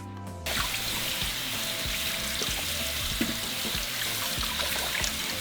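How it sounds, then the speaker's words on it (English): Broccoli and cauliflower rinsed under a running kitchen tap, a steady close rush of water splashing over the vegetables, starting abruptly and continuing without talk. "once we have our broccoli and cauliflower ready, we are going to rinse them"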